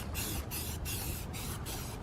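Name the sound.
spraying first coat of primer on car bumper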